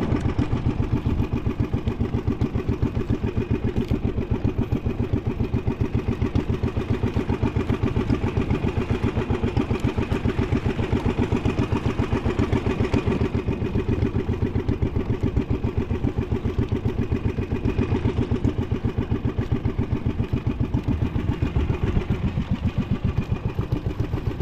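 The engine of a small bangka boat runs steadily at a fast, even chug, a continuous mechanical pulse that holds for the whole stretch with no talking.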